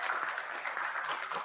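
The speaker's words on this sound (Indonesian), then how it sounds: "Kasih tepuk tangan dong." Audience applause at an Indonesian seminar on creative design and Google AdSense, a steady close wash of clapping that fills the whole short moment without pause.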